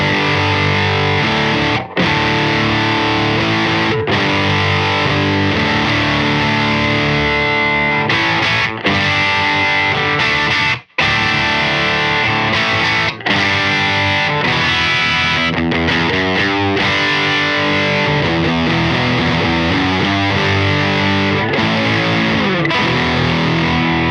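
Electric guitar through a Reeves Electro Facet VX fuzz pedal, with loud, thick distorted chords and riffs played continuously for over twenty seconds and only a few brief breaks.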